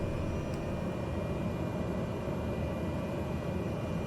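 Cessna 208B Grand Caravan turboprop taxiing in Microsoft Flight Simulator 2020, a loud, constant engine roar with a thin high whine running underneath, steady throughout with no speech.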